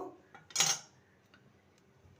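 A metal stand set down inside a preheated kadai lands with one bright metallic clank and a short ring, followed by faint scraping and small clicks, close and clear, with no talking.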